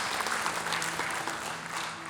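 A church congregation applauds during a Christmas sermon, a dense, steady wash of clapping that holds at an even level from start to finish with no voices rising above it.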